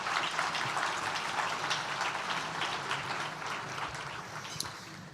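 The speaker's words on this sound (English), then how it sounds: "So you all deserve a round of applause" Applause from the audience at an annual nonprofit awards ceremony, a soft, continuous patter of many hands heard from a distance that slowly fades toward the end.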